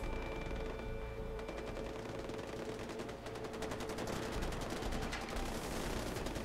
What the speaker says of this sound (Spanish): nos hemos encontrado que se escuchan disparos